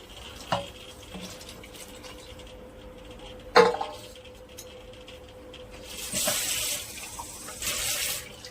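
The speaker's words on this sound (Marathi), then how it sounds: "आणखी थोडं पाणी टाकून पूर्ण परत अशी पिठाची धुवून टाकायची" Water poured over a dough-coated plate (parat) while washing off flour, in a traditional kitchen making horse-gram shingole: a few brief splashes and clinks, then a longer rinsing swish, fairly quiet and without voices.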